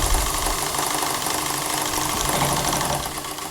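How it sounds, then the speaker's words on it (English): A sewing machine stitches a lined princess-seamed dress, a dense, continuous, fast mechanical whirr and rattle that runs at an even level from start to finish. "So for this pattern, I will be stitching first."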